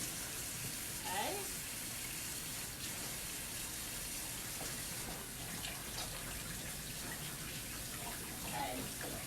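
A tap runs during handwashing, a faint, steady stream of water splashing into a sink, heard continuously with a voice talking over it at times.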